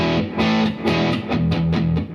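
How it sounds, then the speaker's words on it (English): A distorted electric guitar on the bridge pickup chugs out a quick series of gritty power chords through an amp with reverb and delay, loud and dense, with no one speaking. "Distortion."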